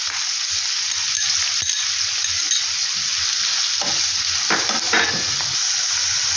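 Spinach leaves frying in a hot pan with a steady, close sizzle, broken by scraping stirs and a few louder clatters.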